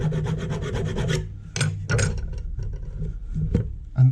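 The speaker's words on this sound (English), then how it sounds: "And then finally, little file in between the two." Hand file rasping across metal between spot welds on a Classic Mini panel, rapid close scraping strokes in bursts, pauses between passes, ending with a heavier knock.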